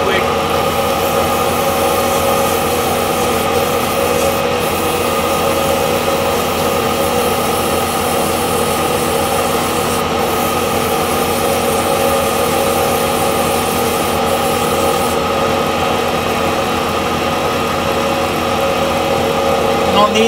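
A wood lathe spins steadily while walnut pen blanks are sanded with coarse first-grit sandpaper, a constant humming motor drone with a faint rasping hiss throughout, close and even.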